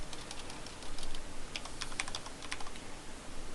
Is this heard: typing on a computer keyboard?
yes